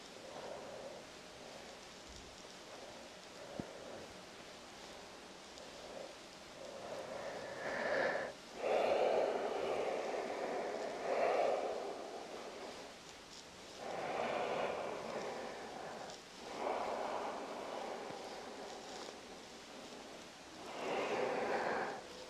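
Slow, deep breathing during prenatal yoga: long airy inhales and exhales rising and fading in drawn-out swells, close and fairly soft, several breaths in a row with no talking.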